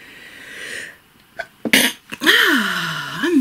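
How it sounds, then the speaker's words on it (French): A single close, sharp sneeze bursts out after a quick intake of breath, followed by a short voiced exhale, indoors with no other sound. "Attention, je vais éternuer."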